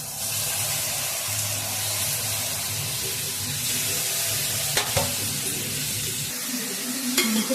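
Ginger paste frying in a pan for liver fry, a constant loud sizzle with stirring scrapes and a couple of sharp clinks of the spoon against the pan near the end.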